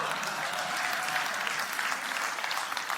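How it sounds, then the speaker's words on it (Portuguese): Steady applause from a large lecture audience fills the whole stretch, dense and even with no voices standing out. "Aplausos."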